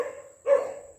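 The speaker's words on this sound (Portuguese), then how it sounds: "Lá naquela casa lá onde tem aqueles cachorros latindo ali, ó." A dog barks once at a neighbouring house in a Brazilian residential neighbourhood, a fairly close, sharp burst rising above a quiet outdoor background.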